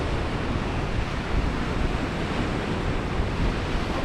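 Sea waves roll onto Parton Beach on a rough day, a loud, continuous roar of surf mixed with gusting wind buffeting the microphone, with no distinct breaks between swells.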